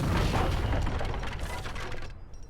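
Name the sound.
explosion blowing up a house in Age of Empires 3 video game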